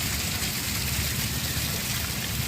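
Cold water falls constantly like rain at Patna Eco Park, a dense, steady hiss of droplets spattering without pause, close and even throughout.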